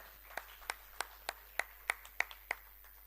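Sparse, slow applause at a student event, a handful of separate, evenly spaced hand claps, fairly quiet and clear against near silence.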